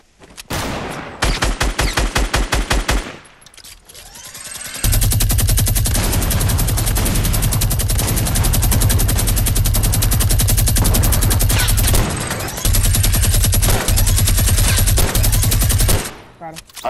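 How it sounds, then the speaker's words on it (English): Minigun fire in Fortnite, long sustained bursts of rapid automatic shots, loud and close, with a brief pause near the start and another short break later. "It's the minigun."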